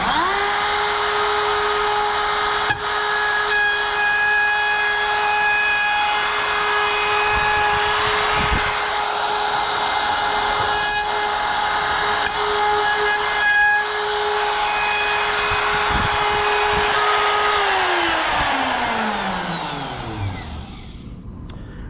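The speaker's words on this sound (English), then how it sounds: "I'm ready to turn on the router" A router runs steadily as it trims edge banding along a board after a Festool Conturo edge bander has applied it. A close, loud, sustained whine with a constant pitch and faint cutting texture winds down near the end.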